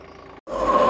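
A tractor engine runs in first gear during a ploughing demonstration, giving a close, heavy rumbling roar that cuts out briefly before returning louder.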